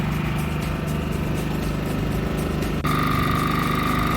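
A small propane-powered Champion 4500 watt generator engine runs at a steady, even idle with a low hum, close by; its tone shifts slightly near the end and keeps running.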